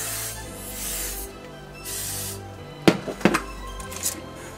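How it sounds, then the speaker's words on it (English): Hairspray aerosol gives two short, sharp hissing bursts close by, following a stretch of quieter rustling from handling wigs and hair. "Hairspray."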